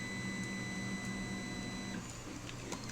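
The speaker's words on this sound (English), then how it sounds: "Sorry about the printer noise." A home printer whirs and clicks steadily in a quiet room, faint and continuous, with a high whine that stops partway through; no one speaks.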